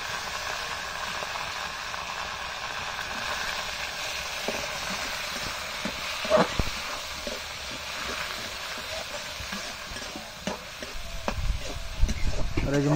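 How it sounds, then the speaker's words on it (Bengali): Shrimp sizzle in a pan of fried onions. The frying hiss is steady and close, broken by scattered clinks and stirring knocks, and it grows busier toward the end. No one speaks. "এখন চিংড়ি মাছ দিয়ে দেবে ভাজা পেঁয়াজের মধ্যে চিংড়ি মাছ"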